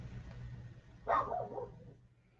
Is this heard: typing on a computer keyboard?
no